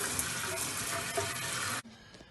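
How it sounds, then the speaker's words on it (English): Soapy water splashes and runs steadily while removed window trim parts from a BMW X6 (E71) are washed by hand, a continuous broadband spray-like wash that cuts off abruptly near the end, leaving quiet room tone. "now I'm going to wash down every part with soap and water"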